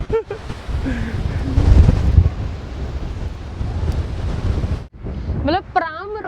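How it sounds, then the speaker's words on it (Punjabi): Strong wind gusting by the sea in Melbourne, Australia, buffeting the microphone in a loud, continuous roar, with a person's voice briefly heard near the end. "ਅੱਜ ਤਾਂ ਹਵਾਵਾਂ ਹੀ ਦੀ ਜ਼ਿਆਦਾ ਤੇਜ਼ ਆ"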